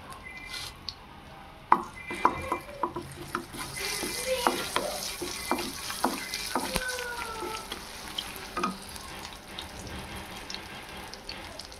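Ginger paste fries in a pan for a Telangana fish curry, a steady sizzle broken by sharp clinks and scrapes of a utensil stirring against the pan.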